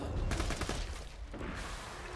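A quick volley of gunshots in a video game, fired at objects in hope of loot dropping, sounds as a dense rattle of shots over about a second before fading into a softer, muffled tail.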